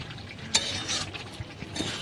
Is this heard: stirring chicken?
yes